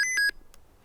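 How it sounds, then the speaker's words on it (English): An emergency prep kit radio sounds its alarm when a button is pressed, giving three quick high electronic beeps in a row, close and clear, followed by a faint click and near silence. "Press down this button here, comes an alarm."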